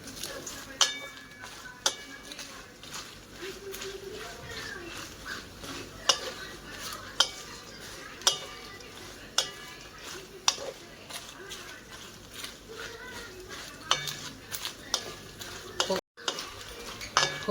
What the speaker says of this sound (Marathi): खोबरं, आपल्याला तेलामध्ये चांगलं भाजून घ्यायचं